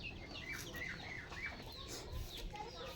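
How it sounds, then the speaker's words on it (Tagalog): Chickens cluck softly nearby in a quiet outdoor setting, with a few short bird calls over a low background hum. "Nakikikain yung manok na malaki."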